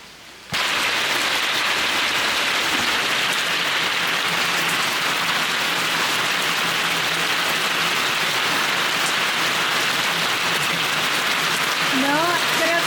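Steady rain pours down on a rural farm in Colombia, a dense even hiss that starts abruptly and continues throughout, with faint birdlike chirps near the end.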